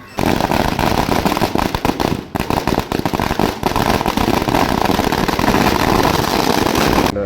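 Firecrackers set off by young people celebrating Vijay's big win in Jaffna, a dense, continuous crackling barrage of loud pops and bursts running the whole time with no pauses.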